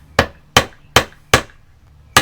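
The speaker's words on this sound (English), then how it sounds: "you just hammer them in slightly." Five sharp, close hammer blows ring out at a steady pace, each a crisp metallic strike with a quick decay, driving nail screws into a board during ceiling fan installation.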